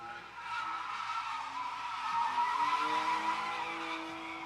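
A drift car slides around the track at a drift event, its tires squealing in a long, sustained skid over engine drone, moderately distant, with no talking.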